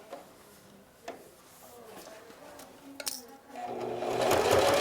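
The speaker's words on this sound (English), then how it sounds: "I sew right along the outer edge" Sewing machine stitching along the outer edge of a fabric face mask, starting with faint clicks and ticks, then building into a steady, close mechanical whirr over the final second and a half.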